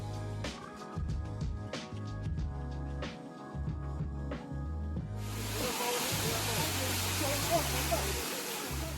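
A person talks at first, then a constant rushing roar of falling water at Bua Thong Sticky Waterfalls near Chiang Mai, Thailand, swells in and fills the rest, with the voice continuing underneath.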